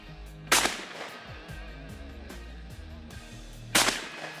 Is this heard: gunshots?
yes